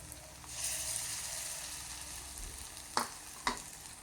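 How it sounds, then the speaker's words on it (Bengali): Mutton fat fritters fry in hot oil in a pan with a soft, steady sizzle and two sharp pops near the end. "গরম তেলের উপরে খাসির তেল মাখায় নেওয়া অল্প অল্প করে দিয়ে দিব"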